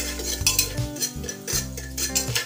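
A spoon stirs pav bhaji vegetables in a pan with salt and pav bhaji masala, giving steady close scraping and clinking against the metal in an uneven rhythm, with no talking.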